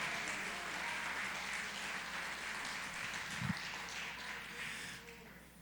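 A church congregation claps along during a sermon, a soft, continuous patter of many hands under a low hum of the room, with one brief thump partway through before the clapping tapers off.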